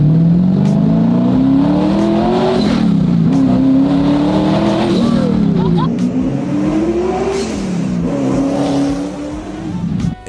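A 1,200-horsepower twin-turbo car with boom tube exhaust roars loudly and up close, its pitch climbing and dropping in repeated sweeps as it accelerates and shifts, with a raspy, stock-car-like bellow.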